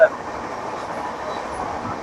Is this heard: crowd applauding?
no